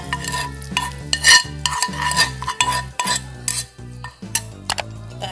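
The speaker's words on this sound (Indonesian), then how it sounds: "Kita aduk ya," A spoon stirs hot broth into flour for pastel dough in a bowl, giving repeated scraping and clinking strokes in an uneven rhythm. The sound is close and fairly loud, with no talking.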